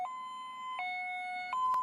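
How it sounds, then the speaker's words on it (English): A new police evacuation siren tone alternates steadily between two pitches, a clean electronic hi-lo pattern switching about every three quarters of a second, loud and alone. "If you hear this siren in your neighborhood, you need to be prepared to evacuate immediately."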